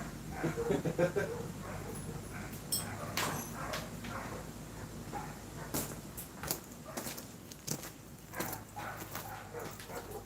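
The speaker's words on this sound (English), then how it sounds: "As you can hear, my dogs are upset because there's stuff going on with next door." Household dogs whimper, yip and bark in agitation inside a garage during a floor build, with scattered bursts and thuds over about ten seconds and a person talking intermittently.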